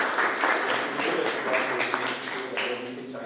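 Audience at a thesis prize event giving steady, moderately loud applause for about three seconds, with dense overlapping claps that fade slightly toward the end.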